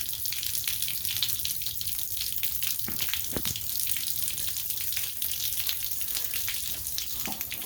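Water rushing and gushing continuously as it drains from a 2012 fifth-wheel camper's plumbing during winterizing, a steady splashing flow with a few knocks and clunks of plumbing over the top.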